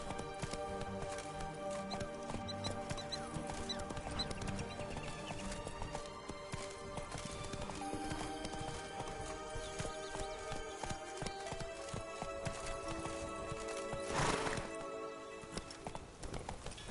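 Horse hooves clip-clop in a steady trotting rhythm in The Witcher video game, with a whinnying neigh rising near the end over a faint game backdrop.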